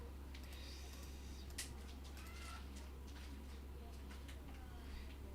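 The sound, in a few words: pet cat meowing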